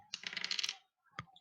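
Dice clatter across a tabletop during a tabletop role-playing game session, a rapid rattling burst of bounces followed by one final click after a short pause, close and clear with no talking.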